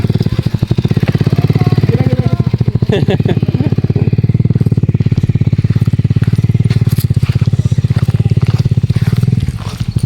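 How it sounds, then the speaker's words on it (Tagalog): A motorcycle passes loud and close with a steady rapid putter throughout, voices faintly underneath, in Bulacan. "Pasok pala ang motor dyan eh."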